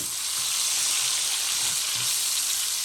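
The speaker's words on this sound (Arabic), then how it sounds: "نقص لها خلاص ونخليها دوكا تتقلى" Tomatoes sizzle steadily in a hot pan for merguez ojja, a continuous close, even hiss of frying with faint stirring, no talk.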